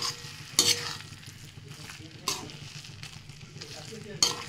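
Lote fish and grated ginger sizzle together in a frying pan, Bengali style, with a steady hiss and a few distinct scraping strokes of a spatula stirring the mixture.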